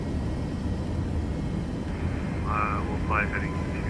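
An aircraft in Microsoft Flight Simulator 2024 taking off makes a steady, loud engine roar throughout, while a voice talks over it.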